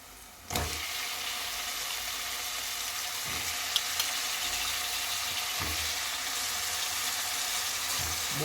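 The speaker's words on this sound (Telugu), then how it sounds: "ఈ కట్ చేసి పెట్టుకున్న గుమ్మడికాయ ముక్కలు వేసేసుకుందాము" Cut pumpkin pieces land in a hot frying pan with turmeric, giving a sharp thump followed by a steady, close sizzle with a few faint clicks and scrapes.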